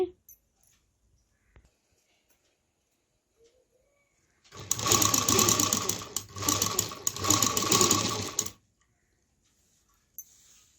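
A simple household sewing machine stitches dori piping in a rapid mechanical whir, two close bursts of about two seconds each separated by a brief pause, with quiet surroundings before and after.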